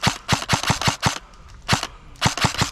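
Airsoft gun firing during a Sunday mil-sim game, rapid sharp close shots in two quick strings with a brief pause between, loud and alone.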